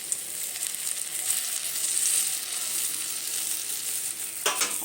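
Small lentil fritters (bora) fry in hot oil with a steady, bright sizzle throughout, and a brief stir or scrape near the end.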